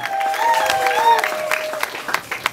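An audience claps at the launch event of a new radio station, Etoile FM 91.5, in Kikwit, with steady, fairly loud applause under a sustained high cheering cry that fades out, leaving scattered claps toward the end.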